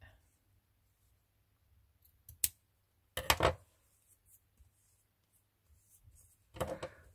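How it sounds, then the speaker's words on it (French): Scissors cut from both sides in a few short, close snipping bursts, separated by near silence. "Je coupe des deux côtés."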